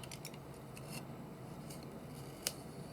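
Scissors snipping through paper while trimming pages for a junk journal, a few soft close cuts with one sharper snip near the end in a quiet room.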